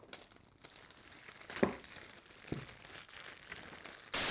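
Plastic packaging on a OnePlus Avengers edition smartphone box crinkles and tears up close as it is unwrapped, a few seconds of rustling with sharper rips, no talking.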